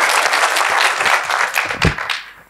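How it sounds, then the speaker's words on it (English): Audience applause after a presentation about a building, a dense burst of clapping close by that thins and fades toward the end, with a brief thump near the close. "there was a clap"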